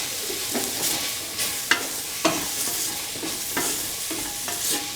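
Spoon stirring garam masala into bitter gourd tomato rice in a hot pan, a string of irregular scraping strokes with light sizzling, close and fairly quiet, with no voices.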